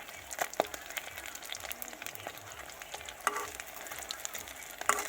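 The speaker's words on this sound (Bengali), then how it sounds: "ছোট মাছ দিয়ে ভাজছি" Small fish coated in gram flour fry in hot oil with a steady crackling sizzle, broken by occasional louder pops and stirring clicks, close and continuous.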